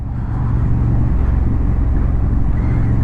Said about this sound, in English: It sounds okay, not the best sounding engine in the world, but it's okay.